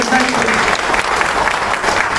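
A large audience applauds during a motivational speech in Hindi. Dense, steady clapping fills the whole stretch at an even level, with voices faintly present beneath it.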